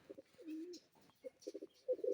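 Soft, low pigeon coos repeat in short bursts, close by and quiet, with faint background rustle.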